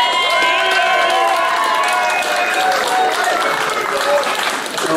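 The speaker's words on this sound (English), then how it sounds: "Martina and Caroline, big round of applause." An audience at a comic con claps and cheers loudly for several seconds, a dense crowd roar with voices mixed in.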